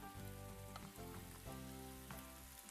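Frittata mixture with zucchini flowers added to a hot pan gives a steady, close sizzle and crackle, continuous and fairly soft with no voices.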